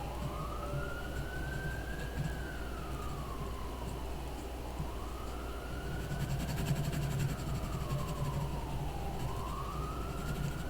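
A voice imitates a siren, a slow rising and falling wail repeating in long sweeps over a low steady rumble.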